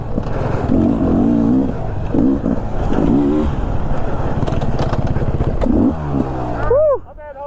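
A Beta 300 RR Race Edition motorcycle engine revs loud and close, rising and falling in repeated bursts before a final high whine as it pulls away, with a rider whooping over it.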